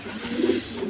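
Fancy pigeons such as racers, Muktis and Kaldams coo in a farm loft, a soft rolling low burble swelling briefly in the middle, close and steady.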